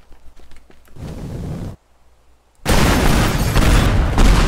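Nitroglycerin charges detonate in the destruction game Teardown: a sustained rumbling blast, a brief near-silent gap, then a second, louder and broader explosion roaring on with heavy low-end debris noise.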